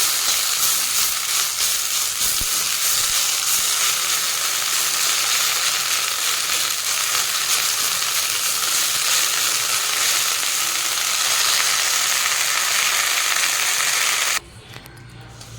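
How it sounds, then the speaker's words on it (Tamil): Curry leaves dry-roasting in a bare pan crackle and sizzle as they are stirred. The sound is loud and steady throughout and stops abruptly just before the end. "கருவேப்பிலாம் நல்லா வறுபட்டுடுச்சு எப்படி சவுண்டு கேட்குது பாருங்கள்"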